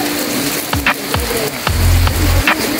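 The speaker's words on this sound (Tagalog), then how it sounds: "Malakas ang ulan" Heavy rain pours down on a roofed work site with solar modules, a dense, constant hiss broken by drips, knocks and a low rumbling hum.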